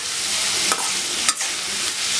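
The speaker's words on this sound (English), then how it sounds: "Keep mixing it until it is completely fried." Minced mutton keema sizzles steadily in a pan while a spoon stirs it, with a few sharp scrapes against the pan breaking up the continuous frying hiss.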